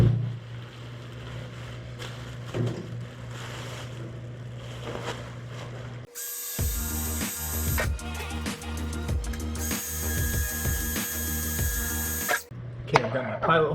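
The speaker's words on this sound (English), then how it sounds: "I've got my pilot holes drilled" A power drill whirs in short and longer bursts, drilling pilot holes through the painted trunk of a Honda S2000, amid clattering workshop noise, with background hum and some nearby talk.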